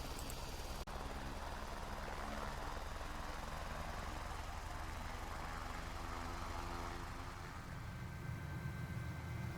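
H125 helicopter engine in a flight simulator game, a steady loud turbine drone with rotor throb running continuously throughout, with no talk over it.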